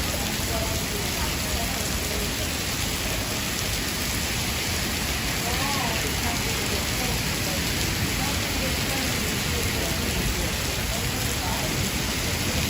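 Heavy rain during Hurricane Elsa on a Manhattan street at night, a steady loud broadband hiss of downpour throughout with faint voices and city noise mixed underneath.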